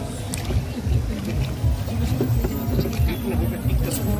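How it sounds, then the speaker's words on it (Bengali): Wooden oars dip and splash in the smooth water of a lake as a boatman rows a small rowboat, a steady low wash of water and hull noise with faint wind throughout. "বৈঠার আওয়াজে জলের মধ্যে এক সুন্দর শব্দ সৃষ্টি হলো"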